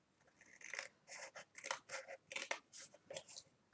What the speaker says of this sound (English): And then taking my scissors, let's snip off that bottom piece,